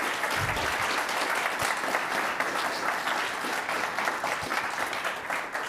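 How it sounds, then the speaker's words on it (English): A conference audience claps steadily for several seconds, thanking a panel, a dense, sustained burst of applause that stays loud throughout and fades slightly at the end. "Just thank the panel with a round of applause."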